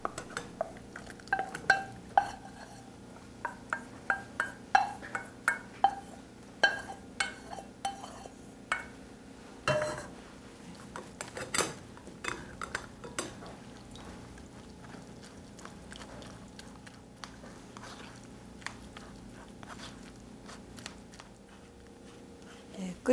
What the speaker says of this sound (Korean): 끓여진 수프를 체에 곱게 내려서 다시 냄비에 부어주도록 하겠습니다